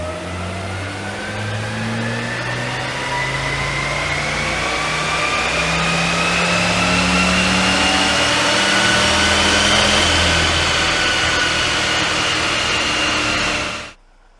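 A Wartburg car engine pulls hard on a dyno rolling road, revs climbing steadily for about fourteen seconds before cutting off abruptly, loud and close with no talk.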